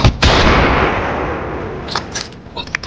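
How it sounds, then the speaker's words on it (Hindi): Gunfire during a staged India-Pakistan combat scene, a loud burst of shots that fades into a rumbling tail with a few sharper cracks near the end. "आप फायरिंग जारी रखें"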